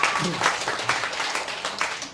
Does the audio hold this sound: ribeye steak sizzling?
no